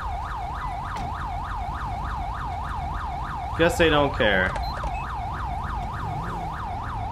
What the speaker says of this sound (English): could you please turn off your siren?